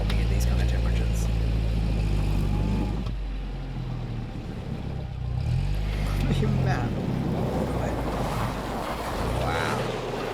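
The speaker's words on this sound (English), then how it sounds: "This is a UAC vehicle which was designed back in the Soviet era, the most popular car in the rural areas in Yakutia" A Soviet-era UAZ car drives through the frozen countryside of Yakutia, with steady low engine and road rumble throughout, wind-like broadband noise on top, and voices talking faintly in the background.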